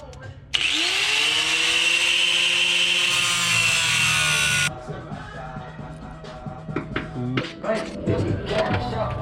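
A hard fuel line being cut on a vehicle during fuel pump removal, giving a loud, sustained rasping cut for about four seconds that is followed by clattering handling noises.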